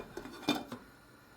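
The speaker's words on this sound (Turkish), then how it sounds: "Tencerenin kapağını kapatıyorum ve kısık ateşte şehriyeler yumuşayıncaya kadar pişmeye bırakıyorum." A metal lid clanks onto a pot of vermicelli soup simmering on low heat, with a few light rattling taps, close and brief, then quiet.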